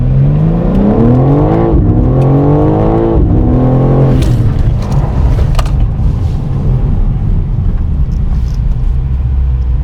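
A car on Hoosier TrackAttack Pro tires accelerates hard from a standstill without launch control, its engine note climbing through several gear changes and then settling into a loud, steady drone.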